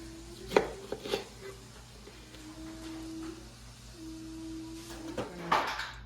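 Chilies for tamale meat cut on a board: a few separate knife chops close by, with a steady low hum in the background and no talking.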